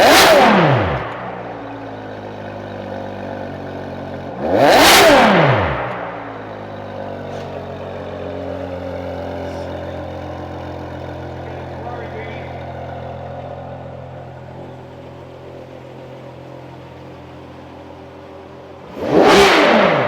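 A Ferrari 599 GTO's engine blips loudly three times, each sharp rev rising and falling back to a steady idle rumble between bursts, close by with no talk.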